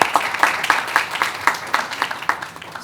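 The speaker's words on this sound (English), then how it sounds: "So let's give them a round of applause." An audience at a school board meeting gives a round of applause, a modest group clapping with sharp, distinct hand claps in a loose, fairly steady rhythm.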